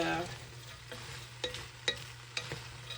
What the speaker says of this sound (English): I'm just going to give that a good turn around the pot